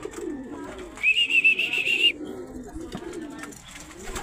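Racing pigeons cooing after release, a soft low murmuring with a brief clear whistle-like tone in the middle, heard outdoors at moderate distance.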